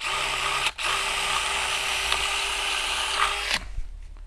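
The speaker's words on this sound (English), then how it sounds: "just using a 6mm drill bit to go through the timber, multi-purpose drill bit" A power drill fitted with a 6mm multi-purpose bit bores through timber, a steady whirring grind lasting about three seconds with a brief dip near the start, then cutting off into quiet room noise.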